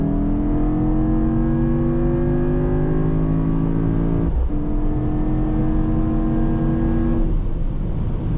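Mercedes-AMG GT63 hybrid V8 pulling hard on the Autobahn at night, heard from inside the cabin: a loud, steady engine roar rising in pitch, broken by two quick gear changes before it climbs again, with no talking.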